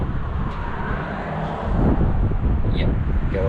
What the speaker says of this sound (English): Holy crap, it is windy.